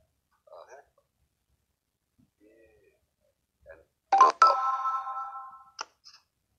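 A phone gives off short electronic notification tones and blips, sparse and fairly close, scattered across near-silence with one longer, louder burst midway through.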